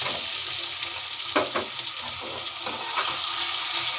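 Chicken skin and bones frying in a pan as potatoes go in, a constant bright sizzle with a handful of soft thuds and scrapes from the spoon, close by and free of speech.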